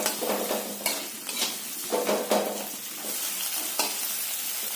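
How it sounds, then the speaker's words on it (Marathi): Potato being stirred into fried green chillies in a pan, a close sequence of scraping, sizzling strokes with light metallic knocks from the utensil, continuous and fairly loud with no voices. "मिरची तळलेली आहे, त्यामध्ये बटाटा मिक्स करूया, ते हलवून घेऊया"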